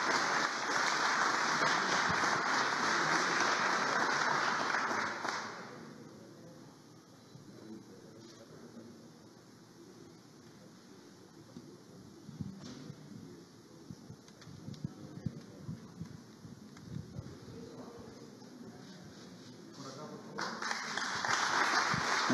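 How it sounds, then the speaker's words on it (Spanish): Applause from a ceremony audience honoring the mayor of Colquemarca, Peru, heard as dense, loud clapping in the opening seconds, then fading into quiet room murmur, with a brief burst of clapping resuming near the end. "El aplauso entonces para el señor alcalde de Colquemarca"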